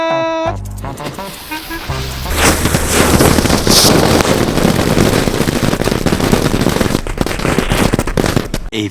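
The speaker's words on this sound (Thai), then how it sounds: "รถถังแม่ค้าเขาบอกว่าจุดแล้วมันสามารถยิงกระสุนออกมาได้" A toy tank firecracker is lit and goes off in a long, loud, rapid crackling barrage of small bangs that lasts several seconds, with wind buffeting the microphone and a brief voice just before it starts.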